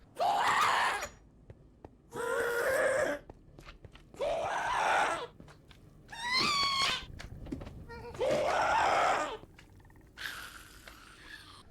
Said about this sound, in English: I can hear the gas screaming while they freeze to death in my AFK spot